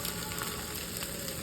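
Chicken sizzling in hot oil for chowmein, a steady dense crackle and hiss throughout, close and fairly quiet with no talk.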